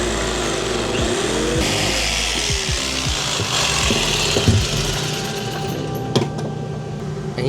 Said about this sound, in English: we're gonna use a jigsaw for this